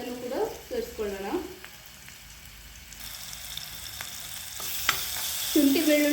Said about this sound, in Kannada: ಶುಂಠಿ ಬೆಳ್ಳುಳ್ಳಿ ಪೇಸ್ಟು ಸ್ವಲ್ಪ ಅದರ ಸ್ಮೆಲ್ ಹೋಗಬೇಕು, ಅಲ್ಲಿವರೆಗೂ ನಾವು ಕೈ ಆಡಿಸ್ಬೇಕಾಗುತ್ತೆ